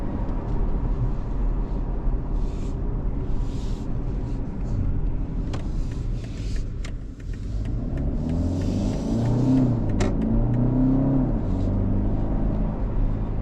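Inside a BMW G60 530e in sports mode, the engine drones and rumbles under acceleration, a steady low strained hum with rising tonal sweeps in the second half, heard from the cabin alongside road noise.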